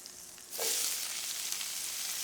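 Peppers hit hot rendered chicken fat with a sudden loud sizzle at about half a second, then settle into a steady close frying hiss that continues to the end without talk.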